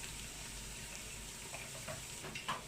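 Fried okro soup sizzling and frying steadily in a pot, a dense continuous hiss with faint stirring clicks near the end, no talking.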